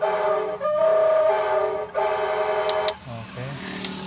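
A modular multi-tone electric horn plays a train-like whistle tone in sustained blasts separated by short breaks, loud and close, with a brief lower tone and small clicks near the end.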